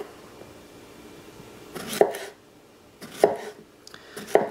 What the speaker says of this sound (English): Try to get nice even slices.